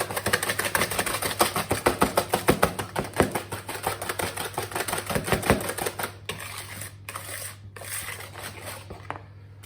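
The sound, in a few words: mixing banana oat cookie mixture by hand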